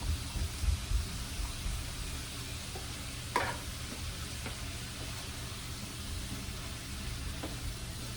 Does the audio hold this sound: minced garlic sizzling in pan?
yes